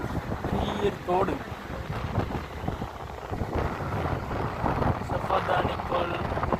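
Steady motor drone of a small boat cruising down a narrow canal, with rushing wind noise throughout and voices talking over the engine.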